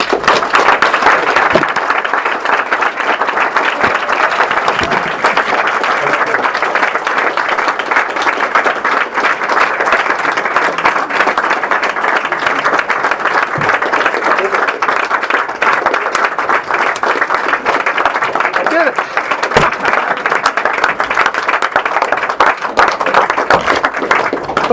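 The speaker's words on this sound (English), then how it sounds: "Okay, that's enough applause." An audience gives sustained applause at an event, a dense, loud and continuous patter of clapping that lasts the whole stretch without a break.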